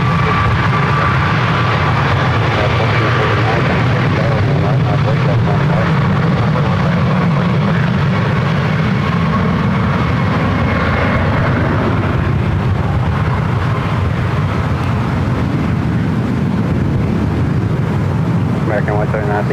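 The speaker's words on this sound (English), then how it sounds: "737 MAX 9 already lined up. Runway 1 right." A Boeing 737 MAX 9 jet on the runway at San Francisco airport, a loud steady engine roar mixed with wind buffeting, with people talking over it.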